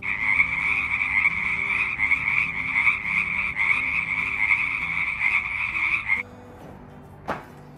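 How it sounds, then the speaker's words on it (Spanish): Frogs croak in a steady, dense chorus from a nearby puddle at a home, loud and continuous for about six seconds before cutting off, followed by a brief sharp knock. "Hoy se escuchan las ranas"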